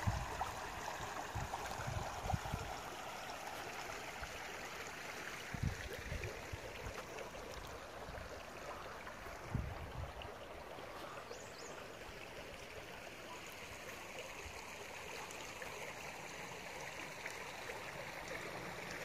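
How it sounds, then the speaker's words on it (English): Hurricane Creek, a full creek near the Walls of Jericho, rushes steadily in a constant broad wash of flowing water, close and continuous, with a few low bumps early on and no talking. "I believe this is Hurricane Creek. I'd have to look at the map to verify it, but as you can tell, it receives a lot of water."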